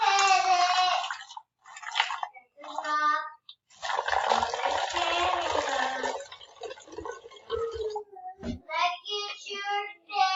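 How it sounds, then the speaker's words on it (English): Hydrogen peroxide is poured from a large container into a bottle, making a gurgling, glugging liquid stream that stops and starts several times, close and clear. There is no talking. "I'm going to add some hydrogen peroxide to the bottle."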